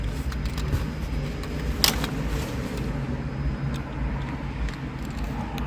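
A car engine idles steadily after being started with the key, a continuous low rumble with a brief sharp clatter near the middle and no talking.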